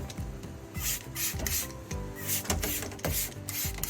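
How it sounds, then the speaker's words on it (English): Coil cleaner sprayed onto an HVAC coil during preventative maintenance: repeated short aerosol hisses in bursts over a steady mechanical hum and rattling whir from the running unit. "One of the first things I always do is I spray down the coil"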